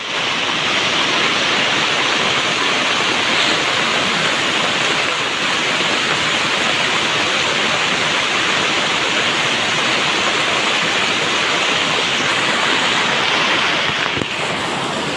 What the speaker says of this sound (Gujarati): વરસાદ આવે છે એક નંબર।